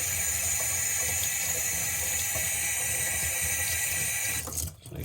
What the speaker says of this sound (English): Make sure, rinse it good.